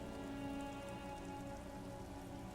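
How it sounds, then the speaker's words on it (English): Steady rain in the video game Disco Elysium falls continuously, a dense even hiss of drops on surfaces with no breaks, at moderate loudness and without voices. "Precinct 41 hunches in the rain."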